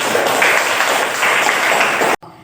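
Classroom applause for a student group: a short burst of many hands clapping together, dense and close, cutting off abruptly near the end.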